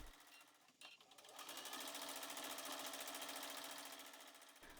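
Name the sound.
sewing machine doing free motion straight stitching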